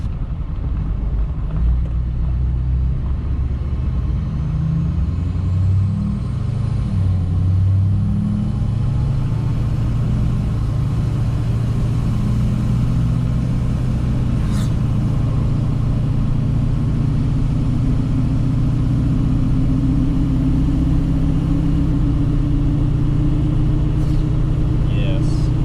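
A Duramax diesel truck fitted with a 5-inch MBRP exhaust drives on the highway, a deep steady exhaust drone and road rumble heard from inside the cab that shifts in pitch as it accelerates.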